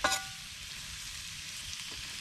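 Potatoes sizzle in a frying pan outdoors, a steady, fairly quiet crackling hiss with a brief clatter at the very start and no speech.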